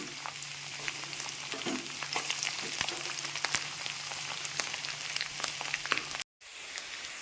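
Garlic fries in oil for a curry leaf pickle with a busy, crackling sizzle of scattered pops and spits over a steady hiss, close and continuous, cutting out briefly near the end.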